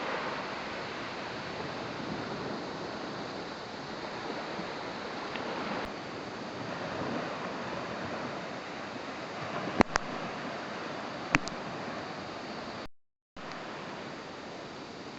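Steady surf washing onto a beach along the Coral Sea near the Great Barrier Reef, broad continuous roar with light wind buffeting the microphone and a couple of brief clicks, no voices.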